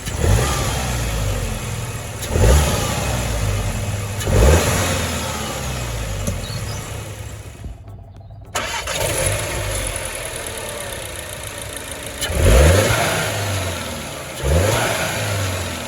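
A Cupra Leon engine with an aftermarket forged air filter revs up repeatedly in short bursts, settling back toward idle between them, with a breathy intake whoosh; close and loud, no talking.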